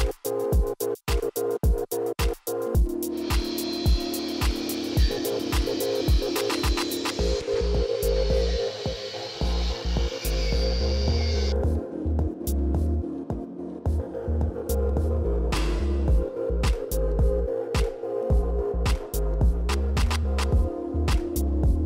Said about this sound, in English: He's gonna grind down all of the spots here for where I have to weld, remove the paint and all that.